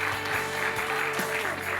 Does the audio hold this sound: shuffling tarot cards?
no